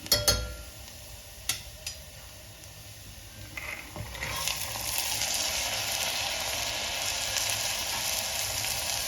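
Onions sauté in a pan for a green pigeon pea masala curry. A few sharp clinks at the start give way to a steady, building sizzle that keeps going without talk.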